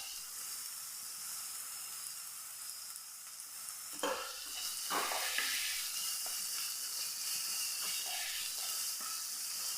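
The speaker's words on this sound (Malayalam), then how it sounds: "നല്ല പോലെ ഒന്ന് വഴറ്റിയെടുക്കാം നമ്മുടെ ഉള്ളി നല്ല പോലെ പോലൊന്ന് സോഫ്റ്റായി കിട്ടണം" Onions sautéing in a pan, with a steady bright hiss and sizzle that jumps louder after a few seconds as the onions are stirred, close up.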